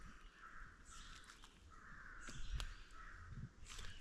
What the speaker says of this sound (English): Birds have been calling all morning